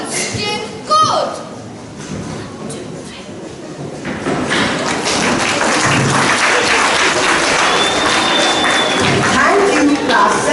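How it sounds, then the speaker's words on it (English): A school audience applauds after a middle school class recitation at an inter-class elocution contest, with a few thumps and voices at first, then clapping swelling into loud sustained applause. "A huge round of applause for them."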